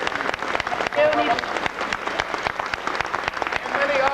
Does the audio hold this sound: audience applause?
yes